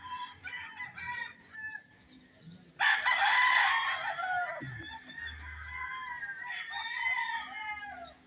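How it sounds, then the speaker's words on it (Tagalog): Chickens cluck busily and a rooster lets out a loud, drawn-out crow close by on a Batangas farm, followed by more clucking and a second fainter crow. "Ayan ang iingay ng mga manok guys."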